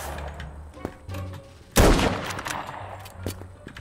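Gunfire in the shooter game Krunker: scattered sharp shots, one loud burst standing out midway, amid faint game noise, with a voice talking briefly in the background.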